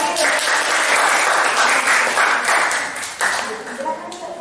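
Students in a classroom give a round of applause, dense and steady clapping filling the room for several seconds before thinning and briefly resurging near the end.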